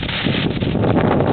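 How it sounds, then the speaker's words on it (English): A big gust of wind rushes through trees during a sudden Pacific Northwest windstorm, a loud, steady roar with rustling leaves and buffeting against the microphone. "Just as a big gust comes along."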